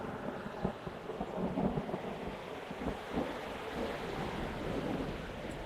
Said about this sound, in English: Man, that lightning's so loud.